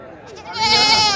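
Goats and sheep bleat at a rural livestock market, with a single close, wavering bleat swelling up after a quieter start.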